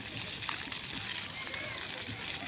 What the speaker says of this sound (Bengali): ওই দেখ জল কত ঘুরছে